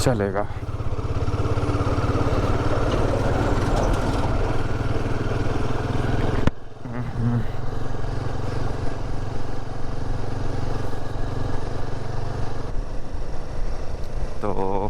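A Royal Enfield Himalayan 450 motorcycle on a ride, its engine a steady loud thrum with a brief dip midway, while someone speaks over it.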